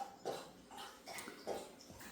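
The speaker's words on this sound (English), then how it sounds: "Sorry for the dog drinking water in the background." A dog laps water from a bowl indoors, a series of quick wet slurps and splashes in an irregular rhythm, soft and fairly close, with no voices.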